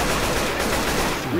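Left 4 Dead 2 gunfire, a dense, loud burst of rapid shots filling a brief moment with continuous crackling noise.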